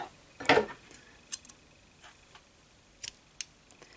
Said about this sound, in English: then you can cut your yarn